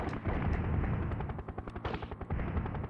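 Rapid bursts of gunfire and booming missile blasts from the helicopter game Urban Strike, dense and loud with rattling automatic fire over heavy low rumbles.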